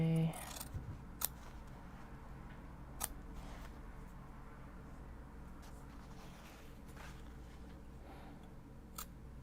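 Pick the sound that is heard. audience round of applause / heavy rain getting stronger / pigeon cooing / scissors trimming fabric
scissors trimming fabric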